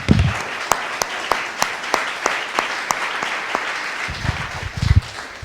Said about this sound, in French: Je pense que ce serait bien si on pouvait l'applaudir.